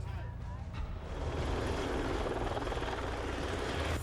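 A police helicopter flies over a hillside neighborhood during a ground search, its steady rotor drone rising a little and then holding constant at moderate distance. Faint voices mix in.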